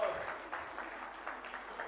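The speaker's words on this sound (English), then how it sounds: "Please give him a round of applause." Audience applause at a Yoruba culture festival, a short burst of steady clapping from a crowd, moderately loud and unbroken.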